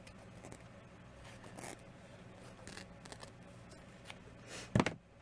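Scissors cut a piece of pink satin trim, giving soft scraping snips and light handling rustles, then a louder, sharper snip near the end with no voices.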